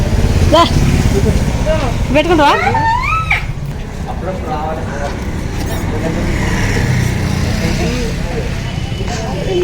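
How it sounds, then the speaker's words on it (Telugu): A car engine runs with a steady low rumble throughout, heard from close by, while voices talk loudly over it. "కారు మొదలు పెట్టింది"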